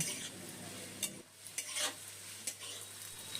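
Four large chopped onions stirred and fried in oil, a soft sizzle under sharp scrapes of the spatula at uneven intervals, close and quiet with no voices.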